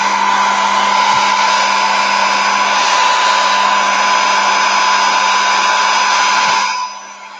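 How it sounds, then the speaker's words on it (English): A hair dryer blows steadily over a gel plate print, a loud close whine held at constant pitch for about seven seconds before switching off. "Hair dryer."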